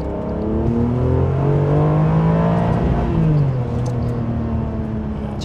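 A Ferrari engine revs freely under half throttle, a sustained rising and falling mechanical drone building then easing back, loud and close from inside the cabin with no talk over it.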